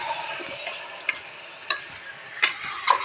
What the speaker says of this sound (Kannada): ಮಿಕ್ಸ್ ಮಾಡ್ತಾ ಇದ್ದಿ